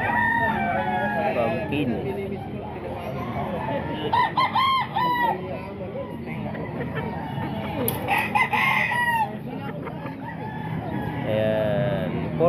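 Roosters and hens at a Baliwag tiangge market, several birds crowing loudly and clucking over a steady crowd murmur, with someone talking close by throughout.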